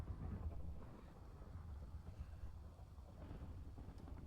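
Low rumbling thunder from a lightning strike in the Minecraft SkyFactory game, a steady deep roll with a windy, rain-like wash that carries on throughout, fairly quiet and with no voices over it.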